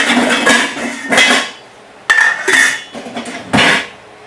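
Metal lids and a pot of leftover roasted Thanksgiving turkey soup clank and rattle close by in a few separate bursts, bright clinks with short ringing tails and brief quiet gaps between them.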